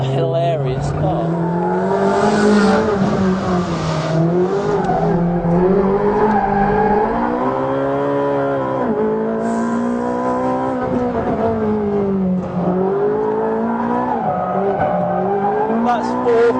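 A Ferrari 458 Speciale is driven hard on the Anglesey circuit, its engine howling loudly and continuously as revs rise and fall through the gears, with a faint squeal of tyres under load.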